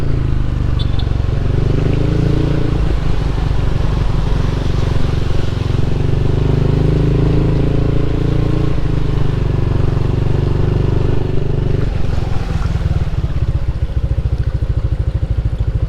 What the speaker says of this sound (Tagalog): subukan nating sumabay ulit dito sa pick up para sa ganun mahawi ulit yung tubig, hindi ganun kataas